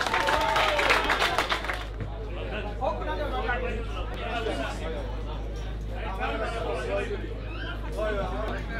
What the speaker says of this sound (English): Please give them a big, big round of applause.